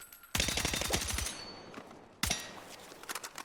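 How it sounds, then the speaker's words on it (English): Rapid burst of carbine fire in the shooter game Battlefield 6, loud and close, a sustained string of shots for about a second, then a lull with faint clatter before another sharp shot rings out. "So we're gonna shoot 1, 2, 3, 4, 5, 6."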